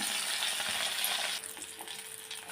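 Tengra fish frying in a small amount of oil, giving a steady, close hiss of sizzling that thins and quietens partway through, with no one talking.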